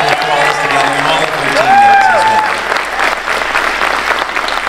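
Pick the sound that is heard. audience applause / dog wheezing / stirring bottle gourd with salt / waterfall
audience applause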